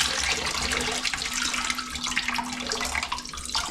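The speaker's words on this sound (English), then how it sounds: "we'll rinse it out thoroughly with tap water." Tap water streams into a kombucha container being rinsed, a close, continuous splashing and gurgling with slight fluctuations as the water is sloshed around.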